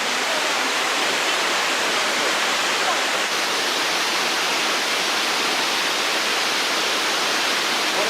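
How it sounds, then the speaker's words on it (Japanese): A waterfall roars continuously, a dense, even rush of falling water that stays loud and unchanging throughout. "滝の音はずっとしてたんやけど"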